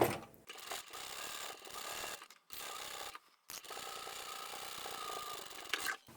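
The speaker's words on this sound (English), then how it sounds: "I'm also sewing with the stabilised fabric at the top" A sewing machine stitches stabilised fabric for a handbag, a close whirring, clattering run of needle strokes broken by two brief pauses and restarts.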